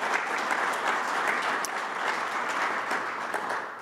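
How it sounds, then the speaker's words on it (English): A conference audience gives steady applause, a dense, even rush of many hands at moderate distance with a few sharper claps popping out, continuing without pause. "Let's give him a round of applause"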